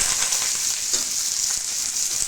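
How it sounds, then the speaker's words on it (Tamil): Onions and curry leaves fry in hot groundnut oil in a kadai, giving a steady, bright sizzle close by with faint stirring touches underneath and no talking. "வெங்காயம் வந்து நல்லா தவக்கட்டும் அது வரைக்கும் நம்ம நல்லா வதக்கிக்கலாம்"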